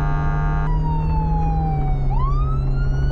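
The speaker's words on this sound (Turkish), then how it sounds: "Sirenleri yakalım da bir şeye benzesin." Emergency vehicle sirens wail in the Flashing Lights driving game as an ambulance races along, a loud, continuous siren sweeping and changing pitch over a steady engine drone, with no talk.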